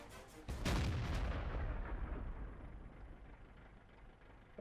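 A tank cannon fires in a tank video game, a single loud boom that rumbles and then decays slowly under continuous ambient noise, with no talking.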